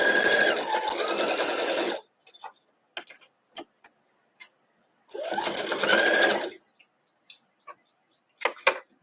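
A sewing machine chain pieces a quilt block in two bursts of rapid, close stitching, with quiet gaps between them filled by small clicks and handling taps.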